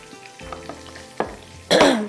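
Butter with curry leaves and garlic hits a hot pan for a moong dal tarka, following a few light clinks and taps with a sudden loud, crackling sizzle that keeps hissing to the end.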